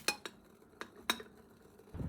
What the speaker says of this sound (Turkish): Tenceremizi ocağa yerleştiriyoruz